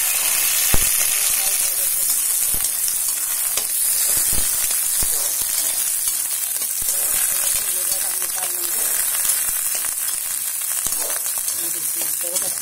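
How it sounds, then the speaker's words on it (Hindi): Washed peas fry in hot oil, giving a dense, continuous sizzle with scattered pops and a few utensil clicks, while a person talks over it throughout. "अब इसमें हमने मटर धो के रखा है, अब इसको हम फ्राई कर लेते हैं।"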